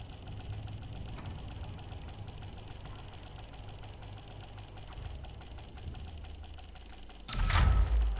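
Spaceship engines in the video game Elite Dangerous give a low, steady mechanical hum at an outpost, swelling into a louder burst near the end.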